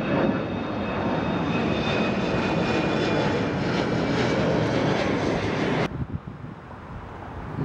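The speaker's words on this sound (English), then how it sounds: "Another A321. This is another of Delta's new aircrafts." A Delta Airbus A321 jet airliner at Atlanta airport roaring loudly with a broad, steady engine rush and some wind buffeting, then the sound drops abruptly near the end.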